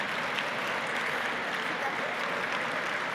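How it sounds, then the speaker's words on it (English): A conference session audience gives Attila and Helen a round of applause, with dense, even clapping that stays steady and fairly loud for a few seconds without a break. "Guys, if we could get a round of applause for Attila and Helen."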